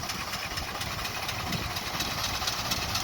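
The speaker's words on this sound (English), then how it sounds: "Steam's running smooth. The threshing machine seems to be working fine." A steam engine powering a threshing machine runs continuously at an even pace, with a broad rumbling drone and faint rhythmic chugging throughout.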